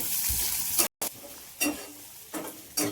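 Onion frying in hot oil with mustard seeds, cumin and garlic for a bhindi-aloo fry: a steady sizzle broken by a brief cut, then short spoon-stirring scrapes recurring every second or so.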